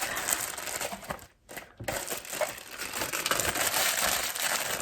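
A plastic bag holding a hair wig crinkles and crackles up close, dense and continuous, with a brief pause before the rustling resumes.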